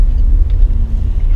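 A Dacia car creeps in first gear through a traffic jam, giving a steady low engine and road rumble from inside the cabin, continuous and fairly loud with no talk.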